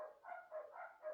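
Dogs barking at someone passing by: four faint, evenly spaced barks from some distance away, with no talking.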